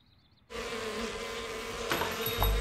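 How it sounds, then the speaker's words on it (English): A dense, steady swarm of buzzing bees in a children's cartoon suddenly swells in loudly and continues, growing slightly more intense, with no talking. "Oh, those bees."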